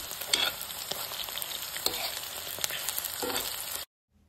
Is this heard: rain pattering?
no